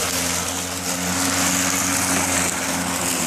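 A Greenworks 40V 19-inch cordless lawn mower (model 25223) runs steadily and close by, giving a continuous electric motor whir with a broad hiss of cutting noise at a constant loudness and no talking.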